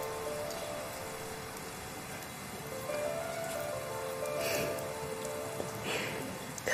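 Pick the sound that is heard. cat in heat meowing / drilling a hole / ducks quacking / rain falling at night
rain falling at night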